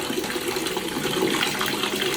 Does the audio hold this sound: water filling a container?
yes